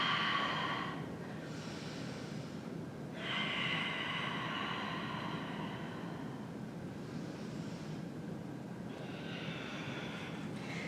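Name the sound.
deep breathing in and out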